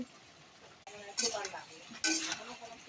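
Turmeric being stirred into a curry in a pan, with two bursts of scraping and sizzling at close range over a low background hum, the second burst starting partway through.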